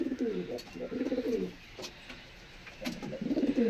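Pigeons in a home loft coo in repeated soft, rolling bursts, a cluster at the start and another near the end, with a sharp flutter or clack between them and low room noise throughout.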